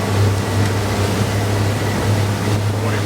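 A 2002 Sea Ray 320 Sundancer motorboat runs under throttle against an incoming tide, a steady loud engine drone with water rush, continuous and close for a few seconds.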